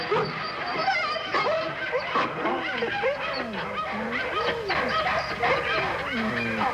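A female collie-type dog whines and whimpers in a continuous stream of rising and falling cries, with short yelps mixed in, close and fairly loud, in a 1950s television drama.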